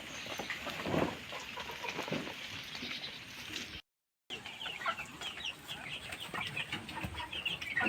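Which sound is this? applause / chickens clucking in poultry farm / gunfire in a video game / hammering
chickens clucking in poultry farm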